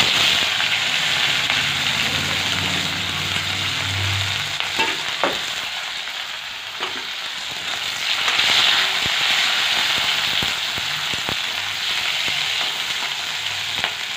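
Chopped capsicum fries in hot refined oil in a wok. A steady, close sizzle and crackle runs throughout, with occasional clicks from stirring and no speech.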